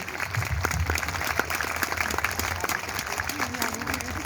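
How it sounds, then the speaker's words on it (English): An audience at a preschool sports day at LGS Paragon Preschool claps in a steady round of applause, moderately distant and continuous, with crowd murmur and a faint voice underneath. "Please give them a huge round of applause for appreciation."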